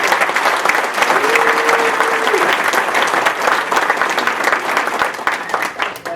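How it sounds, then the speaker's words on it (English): Round of applause for student winners at a school board meeting, sustained clapping from a seated crowd that stays full for most of the stretch, with a brief voice early on before easing toward the end. "Another big round of applause for them."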